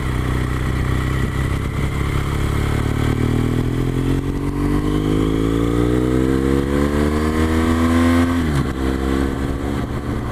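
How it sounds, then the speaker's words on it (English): Steady, loud rush of wind and engine drone from inside an Arai Tour X4 touring helmet while riding a motorcycle at about 50 mph on an A road, the engine pitch rising gradually and shifting briefly near the end. "Let's take it out on the bike though and see how she performs in the wind on the bike."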